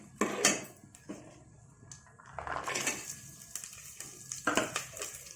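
Garlic and cashew nuts fry in a pan for vegetable biryani, with a soft hiss under intermittent scraping and clinking of a utensil against the metal, several close bursts of stirring spread across a few seconds, no voices.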